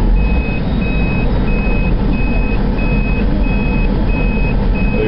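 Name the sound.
truck pulling three trailers around a tight turn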